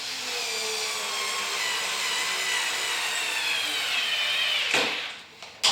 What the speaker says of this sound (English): We'll sink the wood screws.